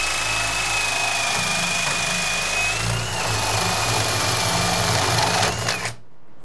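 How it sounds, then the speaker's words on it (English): Drill driving a paddle bit through a door to bore a hole, a loud steady whirring grind held for about six seconds before stopping abruptly. "I'm gonna use a paddle bit to get through here."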